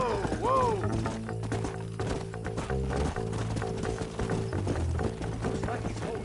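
Horse hooves clop in the Western video game Red Dead Redemption, an irregular rhythm of thuds alongside a brief whinny near the start, set under steady game music and someone talking.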